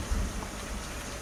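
Steady rain falling in Farming Simulator 19 makes a continuous broadband hiss with a low rumble underneath, even and unbroken throughout.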